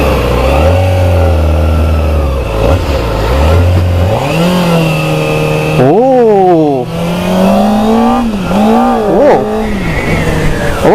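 A Modenas ZX-4R SE motorcycle engine revs up through rising pitch sweeps, accelerating and shifting gears close by on a test ride, loud and steady.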